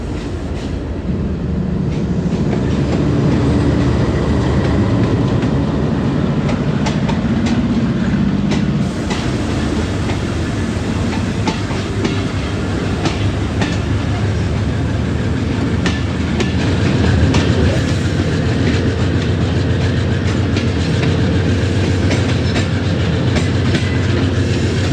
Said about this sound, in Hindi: दोस्तों GU24556 लेके आ रहा है 40 डाउन जाफर एक्सप्रेस को।